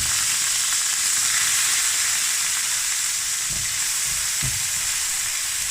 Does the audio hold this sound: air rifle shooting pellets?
no